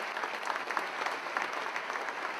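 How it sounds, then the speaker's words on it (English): A crowd at the official opening ceremony of the Silverrudder 2017 sailing race gives a speaker a round of applause, a steady, fairly soft patter of many hands clapping throughout. "Please give her a large round of applause."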